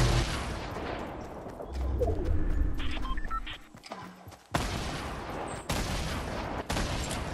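Gunfire in an outdoor skirmish, with several sharp shots and bursts at varying distances over a rumbling background, some close and loud, others distant.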